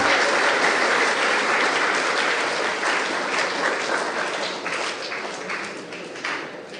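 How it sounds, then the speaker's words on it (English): A room full of students gives sustained applause at a school gathering in Kerala, the dense clapping starting at full strength and slowly thinning over about seven seconds; no talk. "give an applause to yourself"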